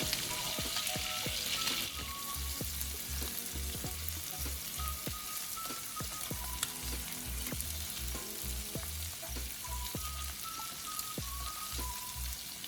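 Shrimp frying in a hot pan, a steady close sizzle with scattered crackles and pops throughout and no voices.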